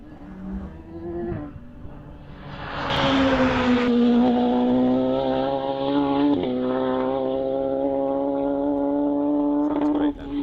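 A sprint race car at the Llandow British Sprint Championship fumbles a downshift, its engine note sagging to a drone then rising again as the driver hunts through neutrals toward first, loud and close.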